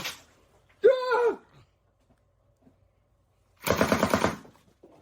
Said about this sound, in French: maintenant voyons si cette chose va tirer maintenant